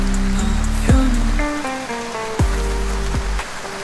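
Steady rain falls with a constant broadband hiss throughout, partly covered by a melodic song with sustained tones and a few sharp swooping accents.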